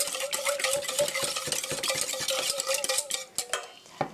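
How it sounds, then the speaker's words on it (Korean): Sugar mixture for a strawberry cake being stirred briskly in a bowl, a rapid, rhythmic run of close clinking and scraping strokes with no speech. "설탕이 잘 녹도록 고루 섞어주시고요"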